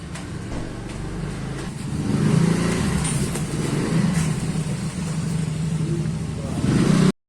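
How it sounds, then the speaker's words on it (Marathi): A car being driven out to leave in the morning: a steady mid-pitched engine drone close by, swelling louder after a couple of seconds and holding, with faint voices underneath. "माणूस गाडी काढतोय."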